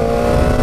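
A 2015 Suzuki GSX-R600 sport bike engine holds a loud, steady high-pitched revving drone close up, with no talking over it.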